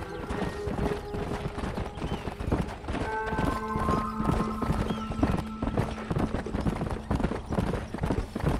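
Horses galloping in the western game Red Dead Redemption, a steady rapid clip-clop of hooves throughout with an occasional whinny, over a low background of music and ambience.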